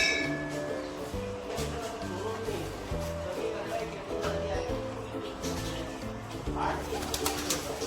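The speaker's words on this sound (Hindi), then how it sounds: "यहाँ दो कबूतर बैठ रहे हैं यहाँ पे" Pigeons coo at a Hindu temple of Bhairav Baba, a steady low cooing that repeats through a busy ambient bed with faint background voices and occasional light clinks.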